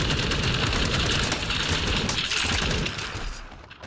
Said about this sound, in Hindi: मशीन गन वैसे है बहुत कमाल की है वाली।